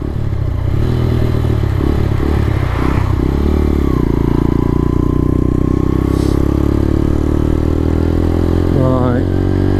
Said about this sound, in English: lesson number one, warm your bike up a bit longer